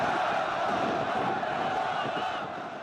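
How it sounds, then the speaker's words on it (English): Large rally crowd in Tripoli supporting Gaddafi, a dense continuous roar of many voices chanting and shouting, steady throughout and easing slightly at the end. "Large crowds in Tripoli showing strong support for Gaddafi."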